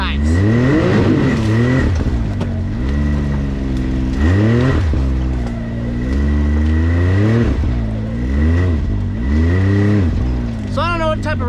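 Can-Am Maverick X3 Turbo side-by-side on an extreme wooded trail, its engine loud and close, repeatedly revving up and easing off in uneven surges, with no other sounds standing out.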